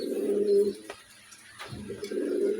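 Pet red Mosoldam pigeons coo in their loft, with a pair of soft, throaty rolling coos near the start and end separated by a brief pause, loud and close by.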